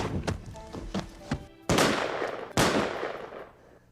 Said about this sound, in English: I have a gun. If you come in, I'll shoot.